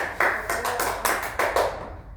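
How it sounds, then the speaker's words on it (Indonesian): Classroom applause for a student: a small group of hands clapping in short, uneven bursts, fairly close, tapering off near the end. "Berikan tepuk tangan"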